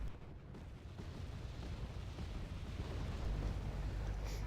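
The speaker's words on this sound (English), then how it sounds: "And yet more rockets coming in." Incoming rockets exploding on a Wargame: Red Dragon battlefield, a steady rumbling wash of distant blasts and artillery without talk.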